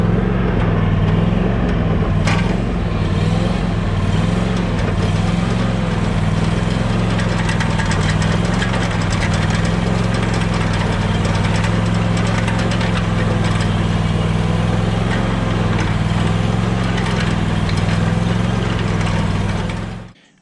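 A Skag V-Rod 2 mower engine idles with a steady low rumble and faint knocking, close and unchanging, then cuts off abruptly at the end.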